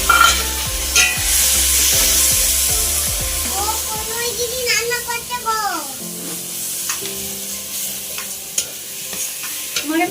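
Home-style country chicken curry cooked in very little oil, with dry red chili powder added; loud frying sizzle with a rapid burst of spoon scraping, then steady hissing with voices talking over it.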